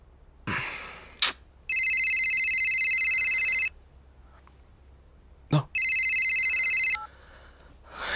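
A phone rings twice in electronic bursts of about two seconds each, separated by a pause, with sharp rustles or clicks before each ring.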